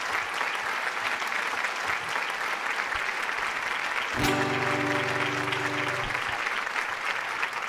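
An audience claps steadily and fairly loudly for a singer, with a sustained musical tone entering partway through beneath the continuing applause.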